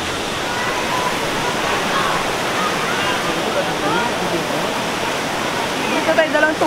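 Steady broadband rush of a river's flowing water, loud and continuous throughout, with a few faint brief sounds near the end.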